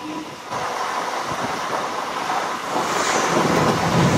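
Steady rumble and rush of a Visakhapatnam–Parvatipuram MEMU express train running at speed past tanker wagons and a locomotive, with heavy wind noise from an open window, continuous and close.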